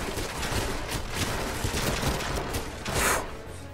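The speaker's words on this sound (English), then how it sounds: "Just watch when I shoot people that are moving." Gunfire in the video game 007 Legends, rapid bursts of shots crackling steadily throughout at moderate loudness, with a sharper, louder blast near the end.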